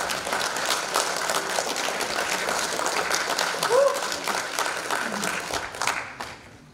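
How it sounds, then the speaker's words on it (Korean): An audience at a club membership meeting in Daejeon gives sustained, dense applause that fills the whole stretch at an even loudness, with a voice briefly heard through it. "정말 여러분 뜨거운 박수"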